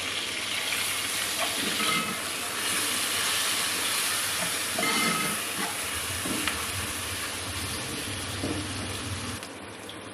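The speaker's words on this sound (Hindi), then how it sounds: "अब हम इसमें ये प्याज डाल देंगे और इसको फ्राई करेंगे प्याज को।" Chopped onions frying in a pan for an aloo palak dish, a steady broadband hiss and crackle running unbroken throughout, fairly loud and close with no voices.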